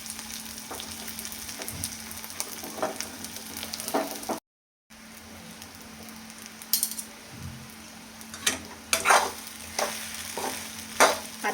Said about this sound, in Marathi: एकदम लो गॅसवरती 2-3 मिनटं छान परतून घ्यायची